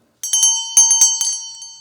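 A hand bell rings out several times in quick, bright, close strikes to end an intermission, each ring decaying briefly before the next, with no other sound around it.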